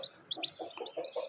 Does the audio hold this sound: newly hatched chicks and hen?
yes